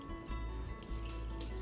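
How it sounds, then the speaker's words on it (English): Warm filtered water, heated in a tea kettle, pours steadily into a large triple batch of roasted garlic cheddar sourdough dough, a continuous close liquid rush with no talking. "next we will go in with 900 grams of warm filtered water"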